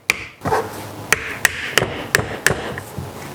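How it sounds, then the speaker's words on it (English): Sharp metallic hammer taps on a tool pushing out a part during a Yamaha TMAX 500 fork seal replacement, at a steady, fairly quick rhythm, about eight blows, close by with no talking. "I'm just using a tool to try and push it out by hammering just a little"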